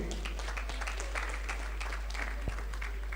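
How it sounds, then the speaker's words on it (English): Graduation ceremony audience applauding a graduate, a moderate steady clapping patter over a low hum, with a couple of sharp knocks. "Please a round of applause for him."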